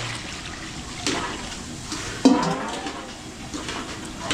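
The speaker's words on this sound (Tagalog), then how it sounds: "Tubig, dagdag tayo." Water is poured into a cooking pot of sinigang with taro during catering preparation, giving a brief splash and gurgle over quiet kitchen background noise, with no talking.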